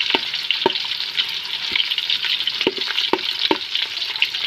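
Chopped onions sautéing in a hot pan, a steady bright sizzle broken by several sharp scrape-and-clack strokes of a spatula stirring, close and fairly loud with no talking.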